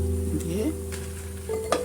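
Cooking oil sizzling in a frying pan after fried batter pieces are lifted out and fresh oil is added, a steady close hiss with a low hum, light stirring and a brief clink near the end.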